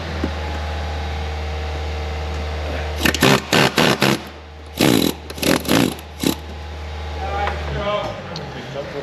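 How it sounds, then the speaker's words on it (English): Loud, close bursts of a pneumatic air chisel hammering at a bolt on a Volkswagen Golf during a clutch replacement, in about seven short blasts over a steady background hum, with someone talking before and after. "I get my air chisel like so, and we're going to get this nut out, bolt out"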